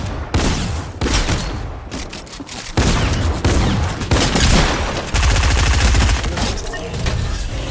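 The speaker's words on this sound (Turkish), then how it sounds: "Başka yerden sıkıyorlar" Heavy video game gunfire, dense bursts of automatic fire and booming shots firing almost nonstop, loud and close, with a voice faintly under the din.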